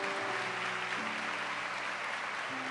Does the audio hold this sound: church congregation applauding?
yes